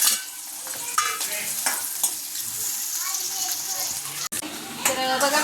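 Curry leaves, onion and tomato sizzling in a hot pan for a mandeli (anchovy) curry, a continuous crackling sizzle with stirring clatter and a brief dropout, someone talking over it.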